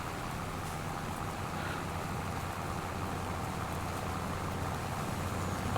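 Rain falls in the video game Farming Simulator 25, an even, steady wash of patter with a low rumble beneath, constant in level throughout.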